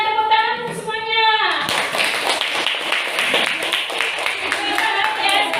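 Students in a fifth-grade classroom clap their hands together after a lesson on the human respiratory system, a brief busy patter rising out of a fading voice and continuing steadily, with voices mixed in.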